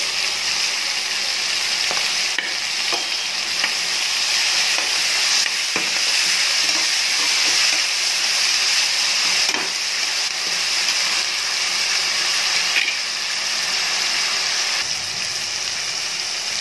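Onions sizzle and fry steadily in a pan for Kadapa-style kichidi, with occasional scraping stirs of a spoon breaking through the constant close hiss; no voices.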